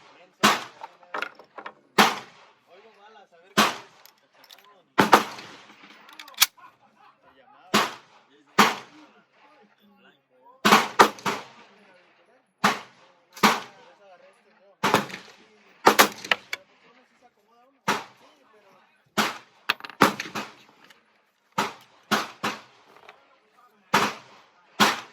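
Sharp, loud reports from home-made Berdan-to-Boxer converted rounds ring out one after another in irregular bursts, some clustered close together, each a crisp crack with a short decay and quiet gaps between.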